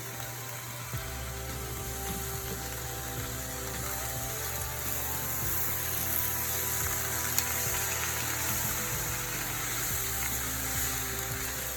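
Katuk leaves sizzling in a pan for a coconut curry, a steady soft hiss under a low, constant mechanical hum, with faint occasional stirring clicks and no talking.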